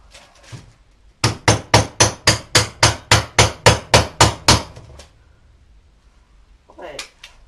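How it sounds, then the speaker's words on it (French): A small hammer strikes metal in about fourteen sharp, even taps during a weathervane build. A voice speaks briefly before and after the taps. "J'ai un petit marteau qui traînait l'autre jour."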